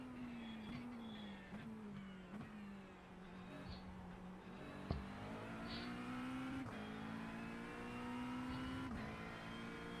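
McLaren GT3 race car engine in a racing simulator at Sebring, a steady droning note that rises and dips with gear changes and throttle, fairly quiet and continuous throughout.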